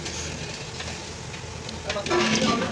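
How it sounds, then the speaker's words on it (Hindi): Semolina (chaini) roasts in a large pot for jaggery rice, giving a continuous sizzle and scraping stir that swells louder toward the end. "माशाल्लाह देखें इस चैनी को हम भून लेंगे"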